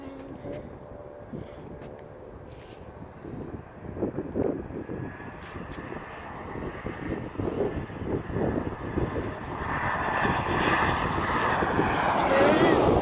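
A JetBlue airplane comes in to land at an airport, its engine roar building steadily from moderate to loud as it nears, with faint voices nearby.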